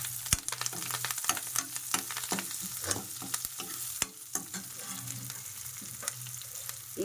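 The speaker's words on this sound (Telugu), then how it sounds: "మనకి ఉల్లిపాయ అయితే ఇలా వేగితే సరిపోతుందండి, అంతకన్నా ఎక్కువ వేగిన బాగోదు" Onions and curry leaves sizzle in a pan for Bombay chutney, a continuous close frying hiss broken by frequent scraping stirs of a utensil.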